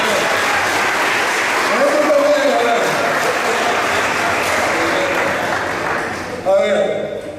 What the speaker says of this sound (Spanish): Un aplauso también.